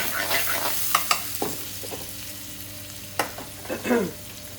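Bay leaves drop into a lamb rogan josh curry frying in a pan, giving a few soft clinks and stirring scrapes over a steady low sizzle, with no talk.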